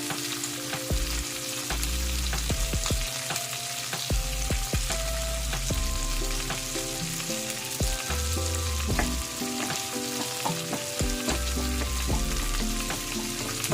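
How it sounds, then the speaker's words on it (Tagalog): Onion and then garlic sautéing in a pan for pork liempo adobong sitaw, a steady loud sizzle broken by repeated clanks and scrapes of stirring, with no talking. "igisa lang muna natin saglit yung ating sibuyas. Ayan. Ilagay na natin yung ating bawang guys."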